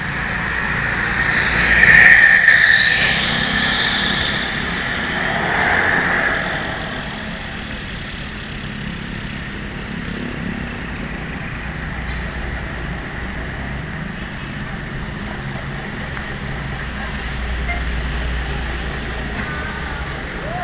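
An Agi Trans intercity bus from West Sumatra runs in Jakarta, giving a steady engine rumble with a louder swell in the first few seconds before settling into an even drone, with faint voices in the background.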